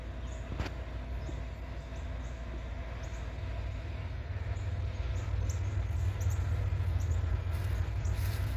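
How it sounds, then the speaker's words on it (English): A heavy coal train slowing down on the main line, a low distant rumble and grinding of rolling wagons that builds slightly and holds steady, with occasional faint squeaks above it. "Sounds like it's slowing up, probably a heavy train."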